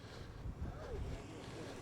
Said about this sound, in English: Ooh, it's quite the wind there.